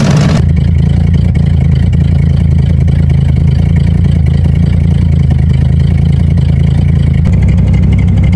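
A 1984 Corvette engine idles steadily and loud at about 900 rpm while warming up, a deep constant rumble with a slight rough pulse, close by, with no voices.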